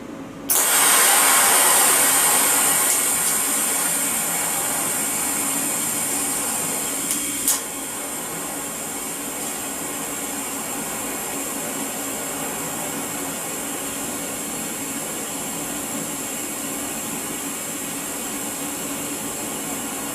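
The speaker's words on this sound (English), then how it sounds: "you'll be able to listen to it welding and make you wonder upon whether it's welding properly or not" A Clarke CT520D combination welder and plasma cutter welding in a workshop gives a steady, loud electrical hiss and buzz with a few brief crackles, running alone for twenty seconds after a sharp start.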